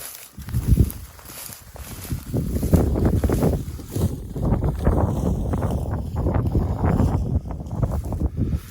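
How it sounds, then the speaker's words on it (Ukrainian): Wind gusts buffet the microphone outdoors beside a road at a rural land plot in summer, a steady low rumbling roar that swells and dips throughout, with no voices. "Трохи вітерок дує"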